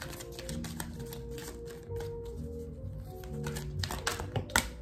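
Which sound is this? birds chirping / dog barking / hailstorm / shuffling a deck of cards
shuffling a deck of cards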